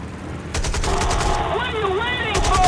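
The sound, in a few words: machine gun fire from a plane in Birds of Steel video game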